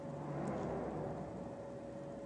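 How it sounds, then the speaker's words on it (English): A lorry passes in the early morning with a steady, fairly quiet engine rumble and road roar that holds an even level throughout, with no voices. "That was a lorry."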